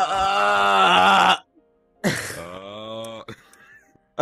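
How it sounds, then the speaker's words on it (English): A snore used as a popular TikTok sound effect: two long, loud, harmonic moaning snorts separated by a short silence, the second rising slightly and trailing off. "I can't believe that's a fucking snore."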